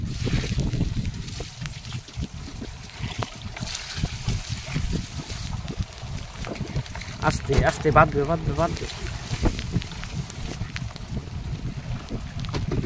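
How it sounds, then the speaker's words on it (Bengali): Strong wind and rain roar on a river in the Sundarbans around a small fishing boat, a steady, dense rush lasting throughout, with people talking over it. "প্রচন্ড হাওয়া শুরু হয়ে গেছে, বৃষ্টিও হচ্ছে"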